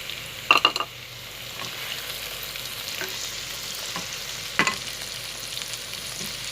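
Tomatoes fry in a pan for a maghaz masala brain curry, giving a steady soft sizzle heard up close. A few clinks and scrapes of a spoon or spatula come through early on and again near the end, with no speech.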